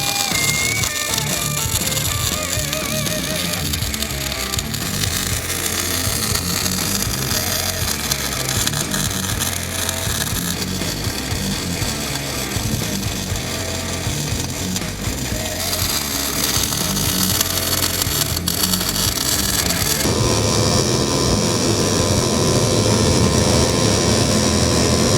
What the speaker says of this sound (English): because I'm going to be welding this downhill, and therefore we can run quite a bit hotter